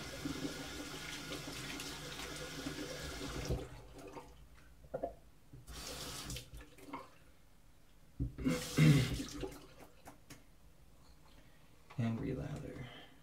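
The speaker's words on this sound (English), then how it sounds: "I'm just going to go ahead and rinse up again real quick." Safety razor rinsed under a running bathroom tap, a rush of water at the start and then several short splashing bursts, with faint speech in the background.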